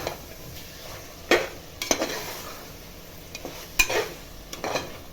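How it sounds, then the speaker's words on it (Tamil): Mutton tossed into hot oil and stirred in a pot while cooking biryani, giving a steady low sizzle punctuated by several sharp scrapes and clinks of a metal spoon against the pan, close by with no talking. "இப்போ அந்த மட்டனை போட்டணும்."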